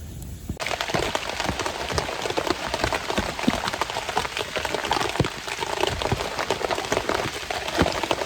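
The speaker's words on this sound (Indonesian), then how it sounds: "Tiba-tiba hujan teman-teman" Sudden rain pours down at a seaside island campsite, starting abruptly after a quiet moment and then drumming in a dense, continuous patter close by.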